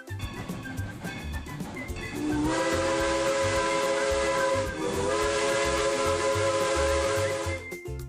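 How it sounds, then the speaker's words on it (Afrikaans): A steam train sounds its whistle, a loud sustained shriek breaking in over a rhythmic chuffing and hissing that continues beneath it. "Dit is 'n trein."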